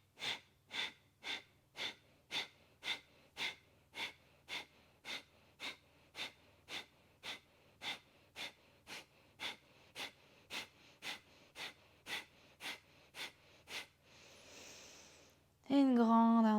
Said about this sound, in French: Prenez quelques respirations ici.